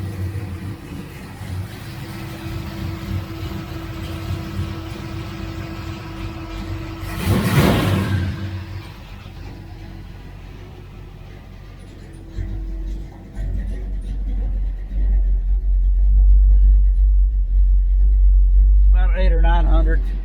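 A 1966 Dodge Charger with a Holley 4150 carburetor idles in a low, steady rumble while someone talks over it. The idle is being turned down, and the engine note deepens and swells louder near the end.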